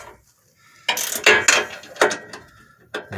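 Ratchet tightening rear armor bumper bolts on a 2002 Jeep Grand Cherokee, heard as a few short bursts of mechanical clicking close by with pauses between them.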